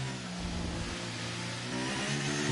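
An F1 23 race car in the video game, racing at the France circuit, revs hard and accelerates down a straight, its engine note climbing steadily and loud, with no talk over it.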